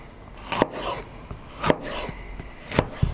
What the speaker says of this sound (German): Als ersten Vorbereitungsschritt werden wir uns jetzt heute unsere Paprika hier in schöne Streifen schneiden.